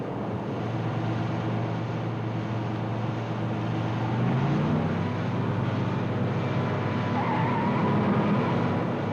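A car on the road during a game of chicken with an oncoming car gives off a steady, loud engine drone. About halfway through, the engine pitch shifts and rises as the vehicles close in. No voices are heard.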